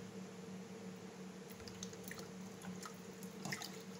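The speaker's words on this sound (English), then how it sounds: "rinse that, and I'm gonna give it another rinse" Salt mackerel being rinsed by hand in water, giving soft squishing and dripping sounds over a steady low hum, close and fairly quiet with no talk.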